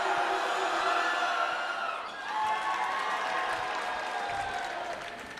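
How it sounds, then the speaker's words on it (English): Gym crowd at a high school basketball game between the SKHS Wolves and Central Kitsap Cougars roars continuously with applause, cheering and whoops, a dense steady wall of noise that dips briefly and then swells back up. "And the crowd is getting loud."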